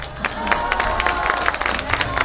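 An audience at an outdoor street callejoneada in Mexico breaks into applause, a quick burst of many hands clapping close and lively, with crowd murmur beneath.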